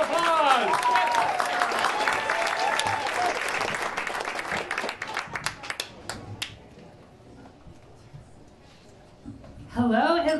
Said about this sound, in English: Nice round of applause for KTK.